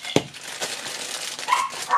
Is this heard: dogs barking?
yes